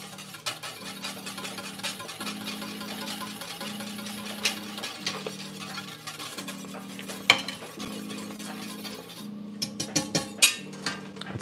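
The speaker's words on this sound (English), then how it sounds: "This will thicken up as we whisk." A whisk scrapes rhythmically around a pot of thickening sauce for Boeuf à la Ficelle, steady repeated strokes with occasional sharper metallic clinks near the end, close and fairly quiet.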